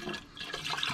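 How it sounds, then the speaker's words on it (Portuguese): Water thrown or splashed in a short wet burst, close and moderately loud, with no talking over it. "Nossa, eu sou ruim de mira pra jogar água, hein?"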